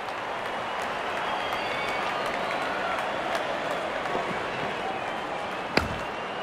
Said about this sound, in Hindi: दर्शक इस 50 रन को अपने तालियों से सराहते हुए